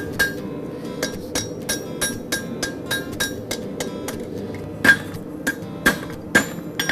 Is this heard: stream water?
no